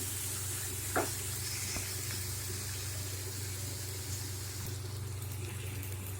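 Onions, green chili and curry leaves sauté in a pan with a faint, steady sizzle and hiss that runs throughout, broken by a few soft clicks.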